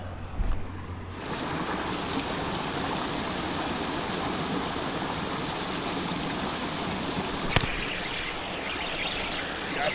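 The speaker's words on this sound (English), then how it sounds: "Got a cool little waterfall section right here" A small waterfall in a trout river rushes in a steady, dense roar of falling water, with wind buffeting the microphone and a brief knock near the start.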